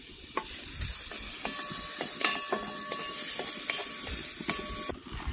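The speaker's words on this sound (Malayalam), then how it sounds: "നമ്മൾ ആ നെയ്യിലേക്ക് തന്നെ നമുക്ക് ഒരു ക്യാരറ്റ് ഞാൻ ഗ്രേറ്റ് ചെയ്തെടുത്താണ് ചേർക്കുന്നത്" Grated carrot fries in ghee for a payasam, giving a steady close sizzle and hiss with repeated light clinks and scrapes of a spoon stirring the pan.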